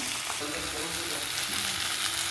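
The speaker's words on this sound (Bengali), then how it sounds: "টমেটোটা একটু ভাজা ভাজা করে নেব। একটু আদা বাটা, 1/2 চামচের মতো আদা বাটা দিয়ে দিলাম। কষে নিচ্ছি এটা।" Tomato and ginger paste frying in a pan for Bengali rohu fish curry, a loud continuous sizzle heard close up with a faint stir or two underneath.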